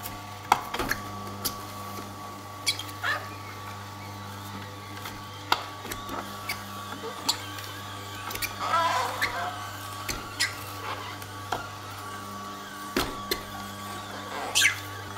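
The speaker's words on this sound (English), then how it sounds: "Just push the apples through the juicer." An electric juicer grinds apples with a steady low motor hum. Sharp cracks and crunches break through repeatedly as the fruit is pushed in, close up and with no talking.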